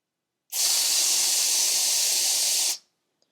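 A Berryman brake cleaner aerosol sprays steadily onto cardboard, a loud, close, continuous hiss lasting about two seconds that starts and stops abruptly.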